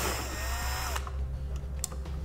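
A power drill backs out two 5/16 self-tapping screws holding a trailer wiring connector on a 2018 Jeep JL Wrangler, a close whirring spin for about a second that stops, then quiet handling noises.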